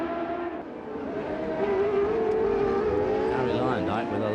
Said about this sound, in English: There we see Mike Groff's car